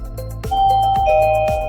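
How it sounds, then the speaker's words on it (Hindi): A Panasonic smart doorbell rings at a connected-home showroom in India, giving a clear two-tone electronic chime over a few soft knocking thuds. "तो आपने जैसे डोरबेल रिंग किया"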